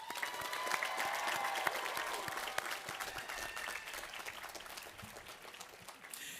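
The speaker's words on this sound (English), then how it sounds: "graduates, I would ask you to applaud your family and your friends." Graduates at De Anza College's 55th annual commencement applaud their families and friends with sustained crowd clapping from a large audience, fading gradually over several seconds.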